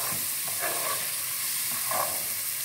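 Four onions frying in plenty of oil, browning nearly to the point of burning, give a steady close sizzle and hiss with faint stirring scrapes.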